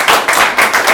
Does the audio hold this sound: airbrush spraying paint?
no